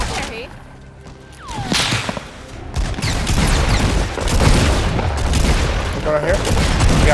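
Rocket blasts and bursts of gunfire from a Fortnite battle, with loud booms and rapid shots layered over dense, chaotic combat noise and sweeping whooshes, close and continuous throughout.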